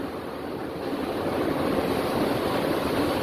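High December waves on the Java Sea, heard from the deck of the passenger ship KM Dorolonda, make a loud, continuous rushing wash mixed with wind buffeting the microphone, with no voices.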